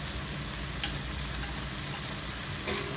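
Manathakkali pachadi with mushy tomatoes, turmeric and sambar powder sautéing in a pan, a constant moderate sizzle with two quick spoon scrapes as it is stirred.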